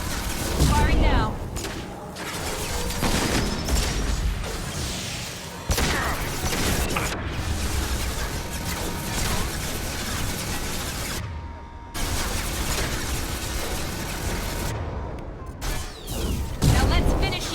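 Heavy gunfire and booming blasts in the space game Space Koboy, loud continuous barrages broken by a few brief gaps, with a voice speaking at times over the din.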